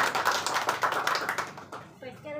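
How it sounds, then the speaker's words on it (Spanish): Brief round of clapping for the teacher at a nail-art course graduation ceremony, a small group applauding briskly at moderate volume before it tapers off and a voice begins to speak. "Un aplauso para la maestra."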